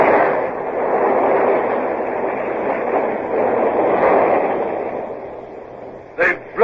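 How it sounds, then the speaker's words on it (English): A gun battery's powder magazine explodes as an audio drama effect, a loud sustained roaring rumble that rolls on for several seconds before fading, followed by a couple of short sharp bursts. "They've blown the magazine, sir."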